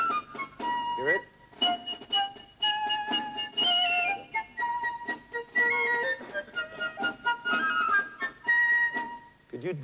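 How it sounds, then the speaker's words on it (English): Piccolo solo from Prokofiev's Lieutenant Kije, written in the Lydian mode with its raised fourth, a bright high melody of quick, lilting phrases played alone for about ten seconds. "Prokofiev, in his music for his funny film, Lieutenant Kije, uses this mode with its raised fourth note in this piccolo solo."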